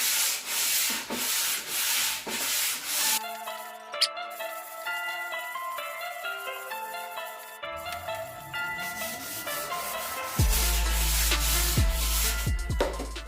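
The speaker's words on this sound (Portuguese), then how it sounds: "Ainda na correção da massa, vou lixar com um taco maior." A large sanding block rubs over polyester body filler in steady, rhythmic rasping back-and-forth strokes, close and fairly loud, joined partway through by sustained tonal background sounds.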